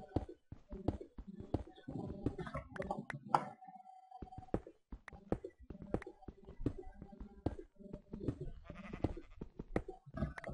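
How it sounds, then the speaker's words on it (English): Sheep bleat in a video game, short calls scattered among footsteps and clip-clop sounds, fairly quiet under occasional talk. "Hear the sheep"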